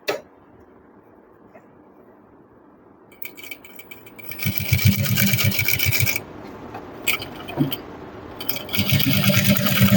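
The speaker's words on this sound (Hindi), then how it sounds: "सिलाई पक्की कर दी है" A sewing machine stitches a pant seam after a quiet pause, running in a steady close whirring, rattling burst for about two seconds, stopping briefly, then starting again in short runs.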